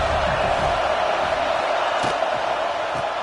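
A massive stadium crowd at an Ohio State vs USC football game roars in a steady, continuous wall of sound, loud and unbroken throughout.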